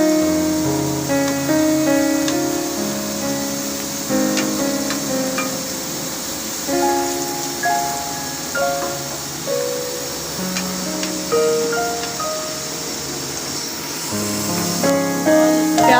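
Onions sizzle steadily in a pan as they are stirred toward light brown for a chicken qorma, a continuous hiss heard under background music.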